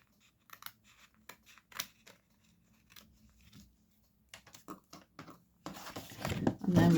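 Scissors snip through stiff card for a swing card in a series of short, crisp cuts, close up and fairly quiet, followed by louder rustling handling at the end.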